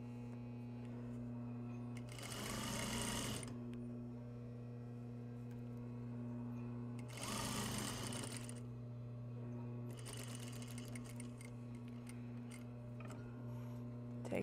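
A sewing machine stitches a turned seam in three separate bursts of fast, even whirring, with pauses between them and a steady hum under the whole stretch.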